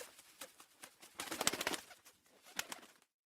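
A bird coos and calls in a forest scene of an animated story, several soft repeated notes building to a busier burst before fading out, with no talk over it.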